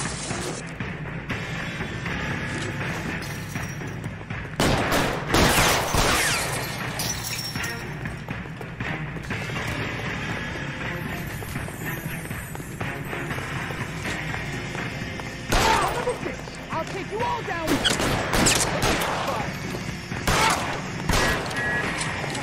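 Gunfire in the crime video game L.A. Noire, scattered loud shots and volleys breaking out amid thumps, clatter and game sound over a noisy background, with shots clustering early and again near the end.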